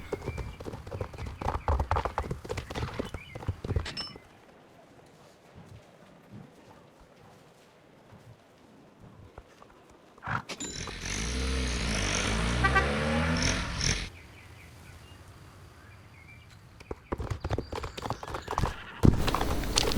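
Horse hooves clip-clop in the video game Star Stable Online, a steady run of hoofbeats broken by a quieter stretch and a louder, busier burst of game sound in the middle.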